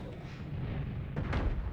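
A nuke spell explosion in the video game Noita: a deep, rumbling blast that swells and holds, with a sharper burst near the end, heard alone without talk.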